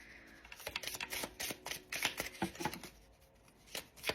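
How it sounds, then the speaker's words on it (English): A freshly opened deck of spirit cards is shuffled by hand at close range, with quick riffling and flicking bursts, some soft and some sharper, and brief pauses between the shuffles. "Let me just shuffle."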